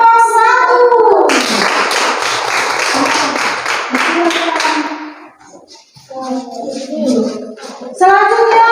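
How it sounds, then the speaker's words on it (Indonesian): In an Indonesian primary classroom, children clap loudly together for a group for about four seconds. Children's voices and a teacher's voice come before and after the clapping. "Berikan tepuk tangan untuk kelompok 1"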